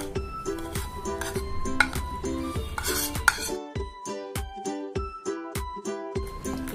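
A spoon whisks dhokla batter made with gram flour, yogurt, turmeric, salt and sugar in a bowl, producing a quick run of bright clinking strokes against the bowl.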